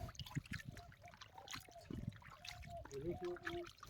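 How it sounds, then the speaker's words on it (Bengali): Goat tripe rinsed under water, a faint trickling and splashing of liquid with soft handling sounds, quiet and close. "এখন আমরা জল দিয়ে সুন্দর করে ধুয়ে নেব"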